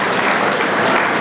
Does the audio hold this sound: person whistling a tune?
no